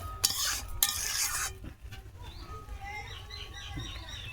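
Tomato chutney with sugar added is stirred in a pan, two bursts of loud scraping strokes giving way to quieter bubbling, with faint birdsong in the background.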